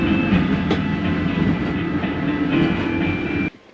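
The Suncheon Bay reed train, a small tourist train carrying visitors into the wetland, rumbles steadily with rail clatter and a faint high whine, loud and close before stopping abruptly near the end.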